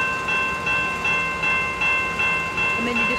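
A Canadian Pacific freight train lashup of locomotives rolls past close by, with steady rhythmic wheel clatter pulsing about every third of a second over a loud, continuous rumble.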